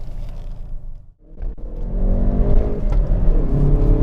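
Hyundai i30 N hot hatch on a hill course, its engine rumbling low from inside the cabin, briefly dipping during a gear change, then building into a steady, loud droning acceleration.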